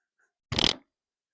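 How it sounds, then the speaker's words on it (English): An arm smacking a table produces one short, loud, flappy thud that sounds like a fart, alone after near silence and fading quickly. "I just hit the table with my arm"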